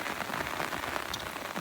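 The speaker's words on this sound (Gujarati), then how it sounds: "સવારનો વરસાદ છોટ્યો" Morning rain falls on surfaces at a farm, a faint, even patter of drops with no voices.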